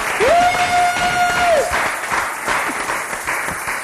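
A church congregation claps and cheers together in a steady burst of applause, with a voice speaking over it near the start and the clapping carrying on underneath.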